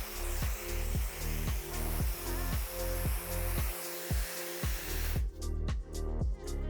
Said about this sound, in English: work the dryer side to side on the section